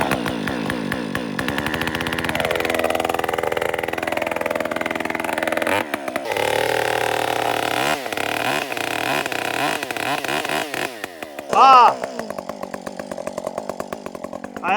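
Husqvarna 562 chainsaw starting and running on choke, loud close engine buzz that rises and surges unevenly, sputters and bogs, then briefly revs high before dropping back to a rough idle.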